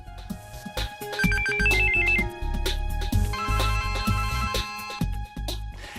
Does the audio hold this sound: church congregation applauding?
no